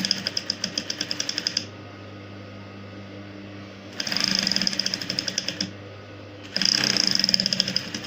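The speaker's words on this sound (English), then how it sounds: "So I'll be sewing back on that stitch." Sewing machine stitching the cup of a draped corset, running in three rapid mechanical bursts with quiet pauses between them, close and clear with no talking.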